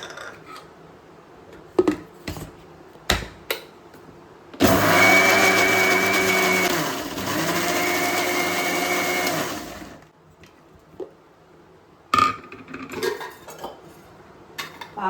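A kitchen mixer grinder whirs loudly for about five seconds, grinding cardamom and sugar for carrot kheer, pausing briefly midway, framed by scattered clinks and knocks of utensils before and after.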